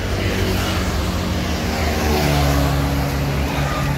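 An intercity bus passes by on a road with a loud, continuous engine roar and rushing tire and wind noise, close throughout with no talk.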